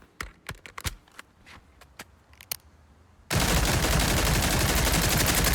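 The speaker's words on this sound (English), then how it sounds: "But it does have a 3-round burst" A 7.62 AK-47 in the video game SCP: 5K fires short bursts of sharp, close gunshots, followed by a loud, dense, sustained roar of noise.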